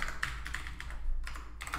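Rapid typing on a computer keyboard while coding a PHP forum project, with a steady run of close, crisp key taps and no talking.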